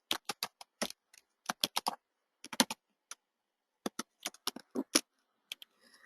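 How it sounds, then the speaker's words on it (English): Someone types on a computer keyboard in short bursts of crisp, close clicks separated by brief pauses, with no voices over the keystrokes. "I'm hoping me typing is not putting you off too much"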